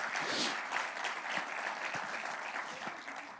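A church congregation claps during a sermon, a dense burst of applause that starts strongest and tapers slightly over a few seconds.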